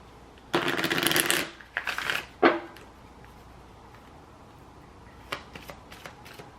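Tarot cards shuffled by hand at close range, with two long riffling bursts and a shorter sharp flutter, then a pause and a few soft, quick card taps near the end.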